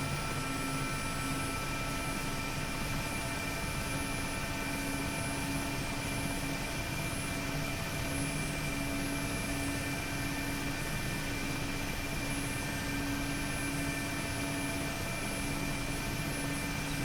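A Mi-8MTV2 helicopter in the DCS flight sim lifts off vertically, its turbine whine and rotor drone holding steady and loud the whole time, with no voices over it.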